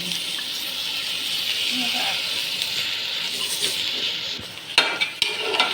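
Pulao rice frying in a pot, a continuous soft sizzling hiss with occasional scraping stirs and a few sharp clacks toward the end, while people talk in the background.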